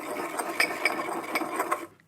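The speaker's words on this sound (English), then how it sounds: "that bit of salt in there is going to act as a bit of an abrasive so we can make a nice powder" Fennel seeds and salt being ground into a powder, a close, gritty scraping and crunching with quick rhythmic strokes that stops abruptly near the end.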